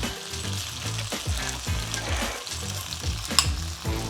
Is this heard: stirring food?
yes